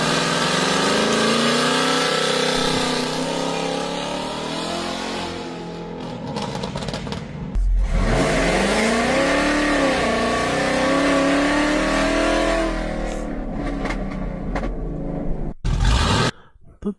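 A car engine revs loudly and steadily for several seconds, its pitch swelling and sliding up and down through repeated throttle blips before cutting off abruptly near the end.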